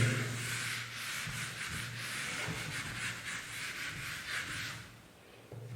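Chalk or marker writing being rubbed off a classroom board during a mathematics lesson on binary operations, a steady scratchy wiping that runs for several seconds in quick strokes before trailing off.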